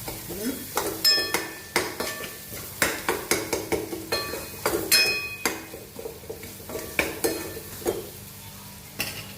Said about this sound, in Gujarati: હવે એને ફ્રાય થવા દઈશું